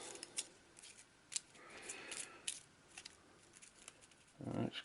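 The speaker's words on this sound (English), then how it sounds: "Right, so these are the injury cards. Let's give it a quick shuffle." A deck of injury cards from the board game Eldritch Horror is shuffled by hand, quiet papery flicks and snaps scattered irregularly, ending in a brief louder riffle.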